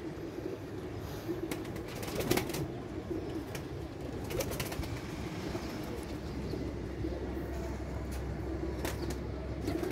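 Giribaz pigeons kept in a loft coo faintly and intermittently beneath a steady background rumble, with occasional sharp clicks and flutters scattered through.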